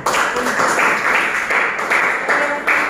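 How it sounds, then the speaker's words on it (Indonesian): A class of students claps during a teaching session, a dense burst of many hands that swells and dips in waves and stays loud and fairly close throughout, with faint voices mixed in. "tepuk tangan"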